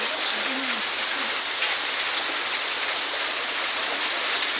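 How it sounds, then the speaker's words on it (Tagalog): Broad, constant rushing of rising floodwater flowing around a submerged vehicle, loud and steady throughout with no clear talk. "Agay, nataas na po ng tubig, bay."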